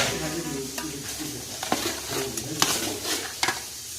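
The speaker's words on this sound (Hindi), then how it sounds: "टमाटर डाल के इसको 10 मिनट के लिए भूनेंगे।" Mutton with tomatoes fries and sizzles in a karahi, a steady hiss broken by several sharp scrapes and clinks of a spoon stirring against the metal.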